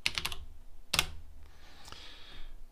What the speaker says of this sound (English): Now let me go ahead and clear home and I'm going to type key.